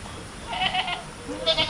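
A goat on a farm gives a couple of short, wavering bleats, close by and fairly soft, over a low background hum.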